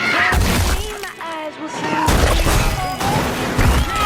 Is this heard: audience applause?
no